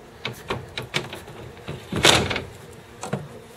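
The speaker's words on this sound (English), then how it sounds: "you can put the companionway doors back on" Wooden companionway doors of a sailboat are fitted back into place, a series of soft knocks and clunks with one sharper scraping thud midway, close and fairly quiet.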